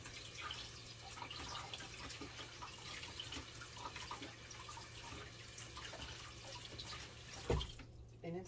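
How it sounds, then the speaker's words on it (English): Warm water runs steadily from a tap onto a knife, a continuous, fairly quiet splashing rush that stops abruptly near the end with a small clunk. "So we are going to do the warm water trick just to warm up the knife a little bit."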